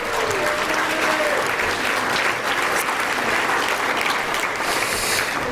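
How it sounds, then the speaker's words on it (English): An audience applauds celebrity contestants at a roast event's Celebrity Jeopardy game, a loud, continuous, dense round of clapping that holds steady for several seconds with no talk on top. "Please give them a round of applause."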